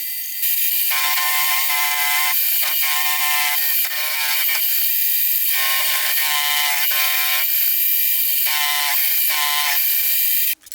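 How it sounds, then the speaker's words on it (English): A machine cuts a cutout into one end of an oversized jack plane part. A loud, steady high whine shifts pitch in stretches with brief dips, running throughout and ending abruptly. "which would allow me to machine in a cutout at one end"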